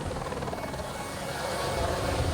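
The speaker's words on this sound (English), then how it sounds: "Philippe Delquier, firefighter in a water bomber helicopter, barely has time to join the pilot before they take off" Water bomber firefighting helicopter taking off, a steady loud rotor and turbine roar that builds slightly in intensity, no voices.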